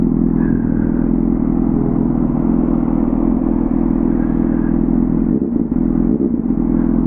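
A motorcycle engine idles close and loud with a steady low rumble and mechanical clatter, a slight rise in revs partway through before settling back.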